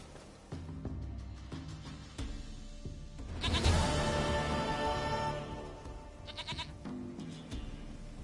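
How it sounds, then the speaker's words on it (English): A goat in The Witcher 3 bleats several times, loud and close, with one long wavering cry in the middle and shorter bleats around it. "Goat of mine, dearest, sweetest goat"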